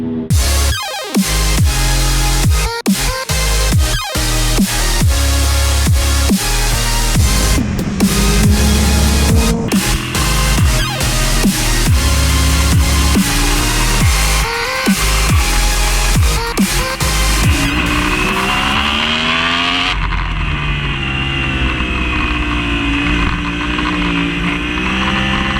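Yamaha R1 sport motorcycle on Dunlop GP Racer tires, its engine loud and close as it revs and shifts through gears, rising and falling pitch with wind rush, a few sharp gaps and a smoother cruising drone near the end.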